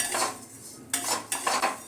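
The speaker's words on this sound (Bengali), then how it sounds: "মুগের ডালটা আমি ঘি দিয়ে ভেজে নেব" A spatula scrapes and clinks against a pan in several strokes as lentils are stirred in ghee, close up with no talking.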